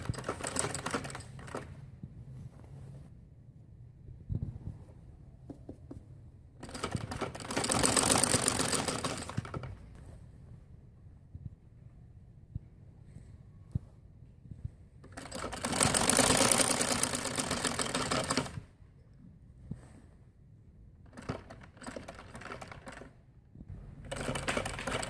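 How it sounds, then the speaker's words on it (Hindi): A sewing machine stitches the placket of a gathered kalidar frock in two sustained runs of rapid whirring, each a few seconds long, separated by quiet stretches with light fabric handling, close and fairly loud. "अब मैं इसको सिलाई लगाने लगी हूँ।"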